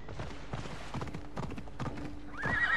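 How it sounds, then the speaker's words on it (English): A horse in the video game Assassin's Creed Odyssey clops its hooves in a quick, uneven rhythm at close range, then gives a short whinny at the end. "I need to take this horse to either Adonis or to the stable boy"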